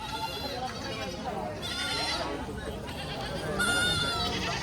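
Kathiyawadi goats bleat repeatedly over a busy background of livestock-market noise and voices at Chalisgaon market, the wavering cries rising clearly a few times.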